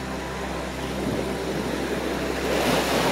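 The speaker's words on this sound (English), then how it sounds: "I hear the shells a-tumbling." Steady rush of ocean surf at Palm Beach, Florida, with a gritty, rattling wash of small shells tumbling in the waves, continuous and fairly close.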